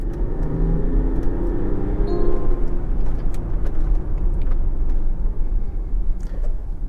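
A Range Rover HSE 3.0 diesel SUV driving on a road during a sudden braking test, a steady loud rumble of engine and tyres with some faint knocks, no talking.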